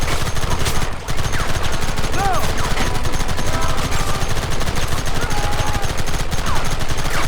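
A Red Dead Redemption cutscene firefight fills the air with rapid, nonstop gunshots and machine-gun-like bursts, loud and close, with one brief dip near the start before the barrage continues.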